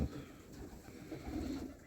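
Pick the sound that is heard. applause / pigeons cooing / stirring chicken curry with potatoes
pigeons cooing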